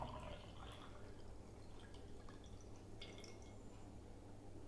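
Water poured from a bottle into a glass tumbler trickles and drips faintly and steadily, with light splashes and a few clear glassy tinks over a low constant hum.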